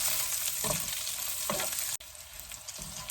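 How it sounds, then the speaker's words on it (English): Beef for dendeng fries in a pan with a steady, bright sizzle throughout. Soft stirring knocks come through at intervals, and no voices are heard. "You just fry it until it's nice and brown."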